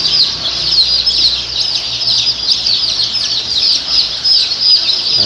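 Roughly 300 two-week-old joper chickens on a farm make a dense, continuous chorus of high peeping chirps, loud and close with no pauses.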